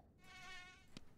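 Mosquito pet in Super Auto Pets giving a short, faint, whiny insect buzz lasting about a second, with a tiny click near the end.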